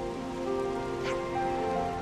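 Steady rain falls on surfaces in Xenoblade Chronicles 3, a constant hiss under faint background music with no voices.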